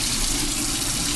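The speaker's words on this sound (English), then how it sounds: "I've rinsed out my bowl" Water runs steadily from a tap while a bowl is rinsed after butter making, a loud, continuous gushing hiss up close that lasts the whole moment.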